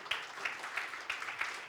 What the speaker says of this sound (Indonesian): Tepuk tanganlah saudara.